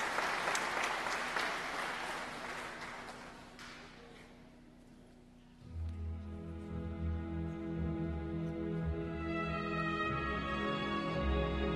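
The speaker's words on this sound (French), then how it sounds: "Merci d'applaudir notre soliste Isabelle Ritt." A concert audience in a collegiate church applauds the soloist with steady, moderately distant clapping that fades out after a few seconds, followed by orchestral music with sustained tones.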